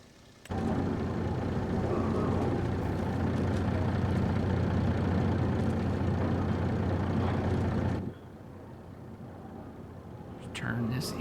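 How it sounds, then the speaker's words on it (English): A tractor or farm machine engine in Farming Simulator 25 drones steadily at a loud, even level, then drops to a quieter idle hum near the end, with soft talk faintly present. "Just turn this engine off when it gets done."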